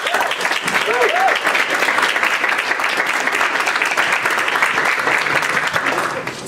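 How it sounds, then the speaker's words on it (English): A lecture audience claps steadily and loudly for several seconds, a dense continuous wash of applause with a voice briefly audible early on, fading slightly at the very end. "A big round of applause for them."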